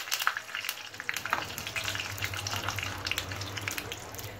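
Curry leaves crackle in a hot tadka with crisped chillies for makki kadhi, sharp bursts of sputtering at the start settling into a quieter steady sizzle, close and fairly faint.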